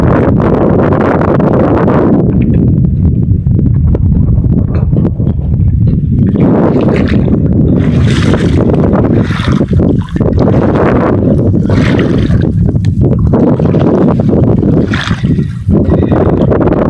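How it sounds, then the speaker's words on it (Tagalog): A boat engine runs steadily and loudly close by, a dense continuous rumble mixed with wind and water noise throughout. "Ayan, okay na, pinandar na po ang makina."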